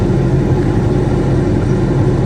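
A Corvette engine at a drag strip holds a steady, loud low rumble throughout, with no clear rising rev, closer to a continuous idle or drone.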